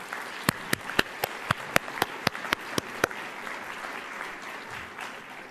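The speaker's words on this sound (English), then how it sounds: "So can we give them a round of applause?" Applause at a university service awards event that starts as a dozen sharp, separate claps, then fades into a softer wash of clapping from a crowd.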